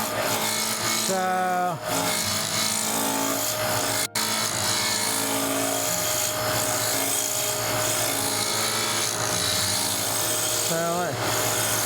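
A wood lathe turns a maple birdhouse bottom, with a continuous motor hum and scraping tool-on-wood rasp throughout, someone talking over it.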